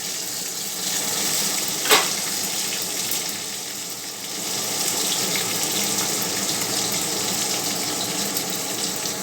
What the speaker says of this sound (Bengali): দুটি তেজপাতা, দুটো কাঁচা লঙ্কা, কালো জিরে ফোড়ন দিলাম।